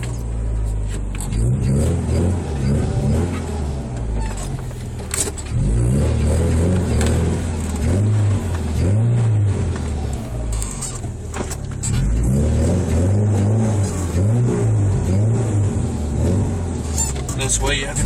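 A 1991 Honda Accord with an intermittent stalling problem is driven on the road, its engine running steadily with rising and falling revs throughout, under a nearby voice that talks at times.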